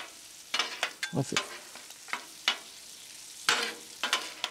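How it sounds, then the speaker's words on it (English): Flour is stirred into melted butter and meat on a Blackstone griddle, heard as a soft sizzle under repeated scraping strokes of a spatula, close and rhythmic with short pauses. "we're gonna mix that all together, get that all mixed here"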